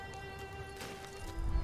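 Horse hooves clip-clop in the video game Ghost of Tsushima, soft and steady beneath a sustained musical drone, with heavier low thuds near the end.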